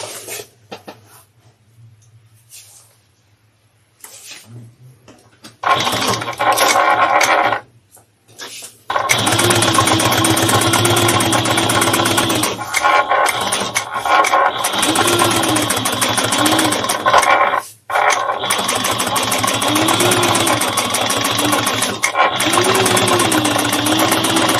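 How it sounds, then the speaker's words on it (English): Sewing machine stitching parallel rows of topstitching on a fabric day trip bag, loud steady motor runs starting and stopping in several bursts after a quiet handling start, with no talking. "We're going to do a first row of stitching at 1/8 and then a second row of stitching at 1/4."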